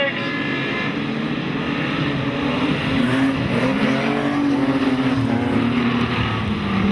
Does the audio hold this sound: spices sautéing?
no